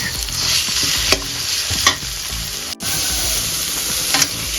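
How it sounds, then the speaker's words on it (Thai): Minced pork stir-fries in a hot pan with garlic and chilies for a Thai basil pork omelette. A loud, continuous sizzle is broken by a few scraping stirs of the spatula, and no one speaks. "ผัดหมูให้สุกก่อนค่ะ"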